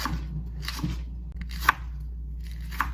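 A few sharp knife chops through a habanero pepper on a cutting board, spaced irregularly against a low background hum, close and fairly quiet.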